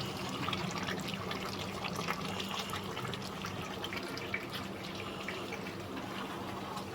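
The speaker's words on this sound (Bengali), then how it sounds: "এতে সামান্য একটু জল আমি গরম করে রেখেছি যেটাতে ম্যারিনেট করেছিলাম বাটি ধোয়া জলটা এটা এবার দিয়ে দেবো" Warm water poured into chicken curry masala (country chicken kosha) in a pan, a steady close wash of liquid pouring and splashing for several seconds with no talking.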